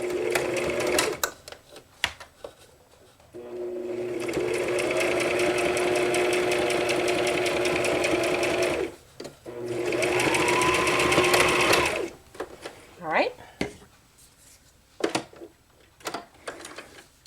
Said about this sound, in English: I'm going to come in here and sew this on with a 1/4 inch seam allowance